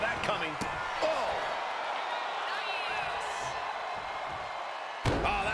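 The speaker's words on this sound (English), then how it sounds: "Shot after shot and slamming their opponent's face to the canvas." A wrestler slammed to the canvas in a virtual pro wrestling video game, a sharp impact thud at the start and another near the end, over a sustained arena crowd roar and commentary.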